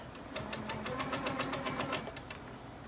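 A sewing machine runs a short test stitch while quilting a table runner, a rapid even clatter of needle strokes that starts and stops within a few seconds, close and alone.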